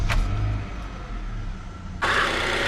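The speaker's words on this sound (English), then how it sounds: "I'm gonna start the car." A used car with 145,000 miles on it starts up: after a low rumbling stretch, the engine catches abruptly and settles into a steady, louder running note, close by.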